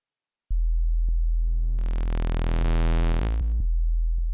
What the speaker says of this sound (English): The wavetable engine uses a basic sine wave like this.